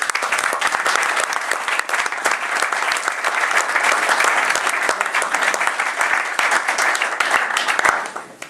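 Audience applause at a trustee dinner in a New York club, welcoming a speaker to the podium; dense, sustained clapping from a full room, loud and steady before tapering off at the end.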